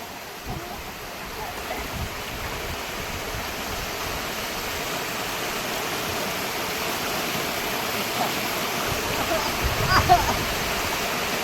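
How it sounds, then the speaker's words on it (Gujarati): Steady rushing of water pouring down at a waterfall bathing spot, a constant close roar with faint voices murmuring beneath it. "જો પાણી કેટલું આવે."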